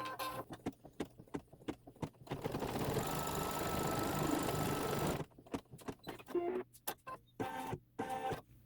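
A sewing machine tacks the teddy bear head fabric onto a Santa's Workshop quilt block, running as a steady whirring burst of about three seconds between scattered clicks and taps from handling.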